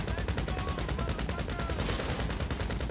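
Heavy weapon firing in GTA 5 Online, rapid sustained automatic bursts with an even rhythm, loud and close throughout.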